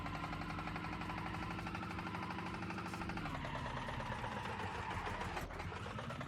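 A huge one-cylinder engine mod in BeamNG.drive runs steadily with a deep, evenly pulsing thump, loud and close, with the rhythm shifting slightly partway through and no talk over it.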